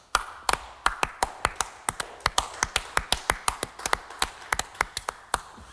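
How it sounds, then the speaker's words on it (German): A few people giving a small round of applause, with sharp, distinct claps in an uneven rhythm that fill the whole moment, close and fairly loud. "Also da gibt's mal einen kleinen Applaus"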